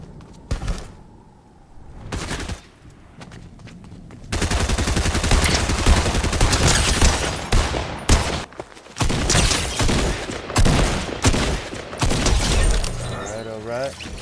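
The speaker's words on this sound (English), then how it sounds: "who's shooting at me?" Fortnite Chapter 4 Season 5 gameplay, where dense, loud bursts of rapid gunfire break in after quieter moments, with a player talking over the action.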